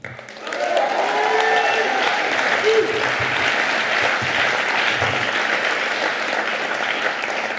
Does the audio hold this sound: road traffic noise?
no